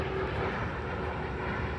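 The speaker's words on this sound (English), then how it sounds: "airplane traffic as these planes come into LaGuardia there into Queens on the other side of the water" Airplanes flying over on their approach into LaGuardia, heard from across the water in Pelham Bay Park, as a steady, moderately loud broadband engine roar that stays constant throughout without pause.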